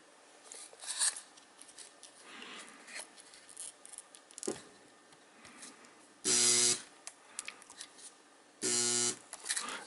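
Scissors snip and rub through thin battery tab strips, giving faint scraping and clipping sounds close by, with two louder buzzing bursts near the end.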